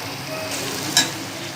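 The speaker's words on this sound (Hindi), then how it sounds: "इसको फ्राई करते हैं 5 मिनट के लिए।" Steady sizzling of beef karahi frying in a hot pan, a continuous crackling hiss with a brief louder pop near the middle.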